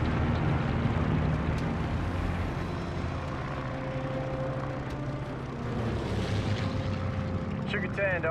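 Propeller aircraft in flight during the Battle of Midway in Call of Duty: Vanguard: a continuous droning engine roar with a sustained tone, loud and steady, under brief voices and a whistling sweep near the end.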